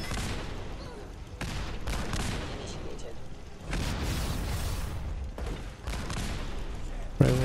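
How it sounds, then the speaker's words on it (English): Turret fire in Fallout 4: sustained loud bursts of automatic gunfire in several long volleys with brief gaps, mechanical clatter mixed in, and someone talking over it. "Yeah, turret."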